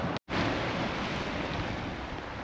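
Sea surf at high tide at Goodrington Sands in Paignton on a winter day, a steady broad wash of splashing waves with wind noise on the microphone and a brief cut near the start.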